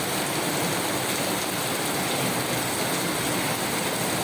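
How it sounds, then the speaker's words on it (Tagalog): Dense, steady downpour roaring without pause, a loud broadband hiss of heavy rain pounding nearby surfaces, no voices. "Lakas ng ulan guys."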